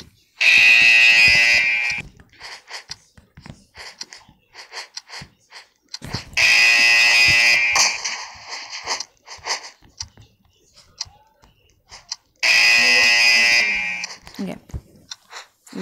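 An alarm sounds in a Squid Game video game, blaring in three loud, sustained buzzing bursts of about a second and a half each, spaced several seconds apart, with talking and quieter game noise in the gaps.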